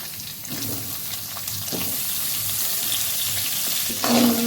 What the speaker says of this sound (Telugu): ఇప్పుడు నాలుగు మీడియం సైజు ఉల్లి ఉల్లిగడ్డలు వేస్తున్నాను